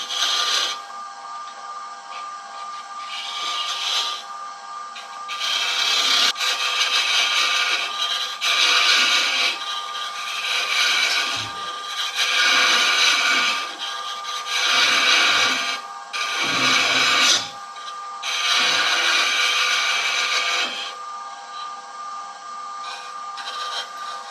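A skew chisel shears into spinning wood on a lathe while a turned box with hidden magnets is shaped, giving a steady scraping, rasping hiss in repeated close passes of varying intensity with short dips between cuts, no talking.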